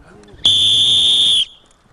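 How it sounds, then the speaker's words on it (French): A single sharp, high whistle blast lasting about a second, loud and steady, cutting through a quiet background, signalling soldiers during military firing drill. "Au coup de sifflet."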